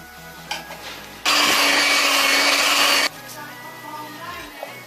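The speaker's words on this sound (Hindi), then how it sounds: "कोकोनट और मैदा मिक्स करते हुए मैंने इसे सिर्फ 30 सेकंड के लिए बीट किया है।" An electric beater whirs steadily through cupcake batter of coconut and flour for a couple of seconds, loud and close, then cuts off to quieter kitchen background.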